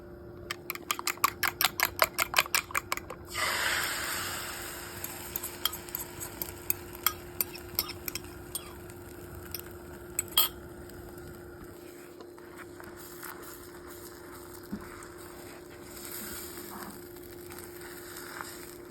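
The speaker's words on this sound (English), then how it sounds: "let's get those eggs cooked up" Eggs cook in a pan for low-carb breakfast tacos: a rapid series of sharp clicks and taps opens, then a soft sizzle carries on under scattered utensil knocks and scrapes against the pan.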